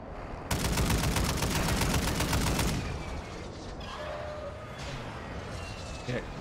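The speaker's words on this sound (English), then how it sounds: "airstrike" An airstrike in Call of Duty: Warzone Armored Royale opens with a sudden loud, rapid barrage of impacts for a couple of seconds, then fades into rumbling aftermath while players talk.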